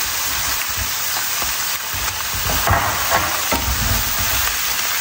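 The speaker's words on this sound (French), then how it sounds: "Je vais venir verser les oignons, enfin l'oignon haché grossièrement." Coarsely chopped onion goes into a hot pan with browned turkey pieces, giving a loud, continuous sizzle with stirring scrapes and small pops.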